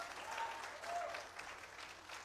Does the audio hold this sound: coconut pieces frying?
no